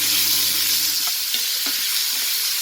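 Tomatoes sauté in a hot pan for red snapper fish curry, giving a steady, loud sizzle with a few soft stirring scrapes and no voices.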